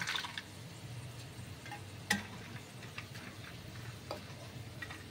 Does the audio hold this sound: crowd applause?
no